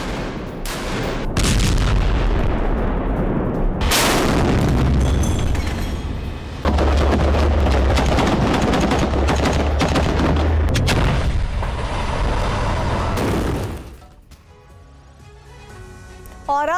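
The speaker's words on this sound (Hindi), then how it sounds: "उत्तर से दक्षिण गाजा तक इजरायली बमबारी का सिलसिला जारी है।" Heavy bombardment in Gaza during the Israel–Hamas conflict: repeated loud booms and bursts of gunfire roll on almost continuously, dense and close, before dropping to a quieter stretch near the end.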